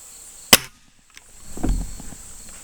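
A cheap Chinese B3 underlever air rifle in .177 fires one sharp, close shot, followed a second later by a duller impact thump downrange.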